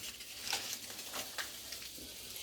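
Butter sizzling and frying in a hot pan before spareribs go in to sear, a soft steady crackle with a few brief scraping stirs.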